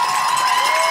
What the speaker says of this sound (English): The whole crowd making noise.